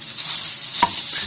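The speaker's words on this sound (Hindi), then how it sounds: "अब हम इसके अंदर डाल देंगे 1 कप उबली हुई बॉइल्ड और श्रेड की हुई चिकन" Boiled shredded chicken drops into a pan of frying egg, a steady close sizzle with one brief clatter as it lands.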